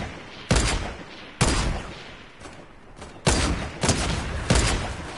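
Video game gunfire in Fortnite, several loud sharp shots spaced irregularly across a few seconds, each with a short decaying tail, no talking over them.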